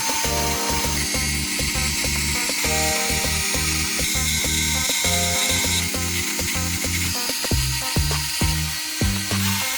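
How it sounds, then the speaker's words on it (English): Motherboard screws come out of a Lenovo ThinkCentre all-in-one computer as a screwdriver turns in rapid ratcheting bursts, close and loud, with short pauses between screws. "we need to remove about 7 to 8 different screws, so let's take them out of the way now"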